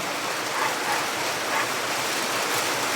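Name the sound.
heavy rain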